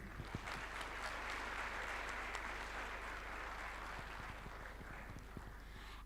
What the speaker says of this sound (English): Can we please have a round of applause for our distinguished dais?